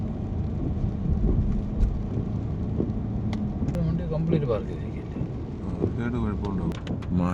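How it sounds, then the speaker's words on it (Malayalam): Heavy rain pours down in a steady broadband wash with traffic and vehicle rumble mixed in and voices speaking over it. "നല്ല മഴ"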